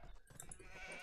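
A sheep bleats in the Age of Empires strategy game, a short faint wavering call mixed into low game ambience, with no speech.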